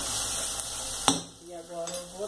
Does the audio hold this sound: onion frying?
yes